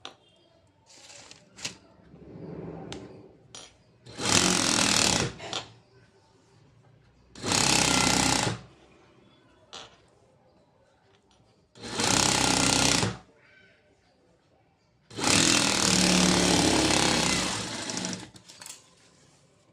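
A sewing machine stitches the bottom hem of a blouse in four loud, sustained runs of rapid needle clatter, separated by quieter pauses with light handling noises.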